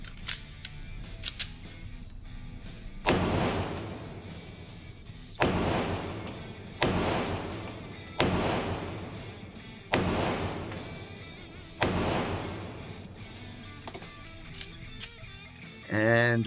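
A Ruger LCP pistol fires a series of sharp, evenly spaced shots, five or six loud reports each followed by a short decay, at target practice outdoors.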